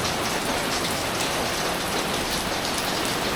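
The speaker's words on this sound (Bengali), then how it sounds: "আমাদের রান্না এখনো শেষ হয়নি এর ভিতরে বৃষ্টি চলে আসছে" Steady rain pours down outdoors during wood-fire cooking under a large umbrella, a dense, continuous hiss of drops striking surfaces close by, with no voices.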